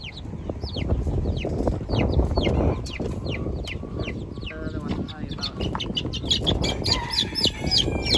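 Bantam chickens cluck and chirp throughout, with repeated short calls over a continuous background, while people talk nearby.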